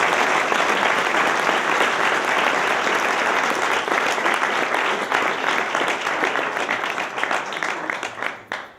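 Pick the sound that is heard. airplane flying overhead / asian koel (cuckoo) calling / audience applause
audience applause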